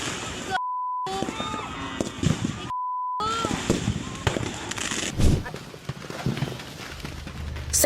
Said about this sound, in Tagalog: Kinukunan lang ng video ang nagpuputokang fireworks na yan sa Barangay de la Paz, Antipolo City